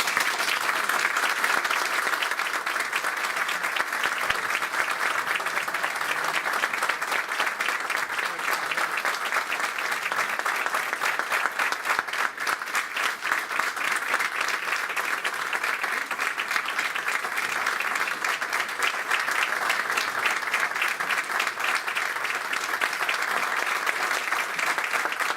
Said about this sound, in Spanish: Yo creo que el aplauso lo dice todo